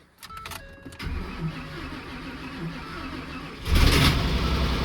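A tired racecar engine with about 280 miles on it cranks with a few sharp clicks, catches and settles into a rough, uneven idle, then surges louder near the end, close by.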